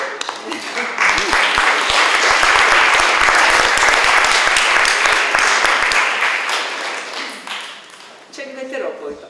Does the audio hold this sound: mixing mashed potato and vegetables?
no